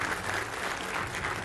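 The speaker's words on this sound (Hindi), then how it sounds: "सरदार आरपी सिंह साहब, जो कि प्रवक्ता है बीजेपी के, तालियों के साथ उनका स्वागत कीजिए।" Studio audience applause welcoming a guest on a television debate show, a dense continuous wash of clapping heard up close and steady throughout.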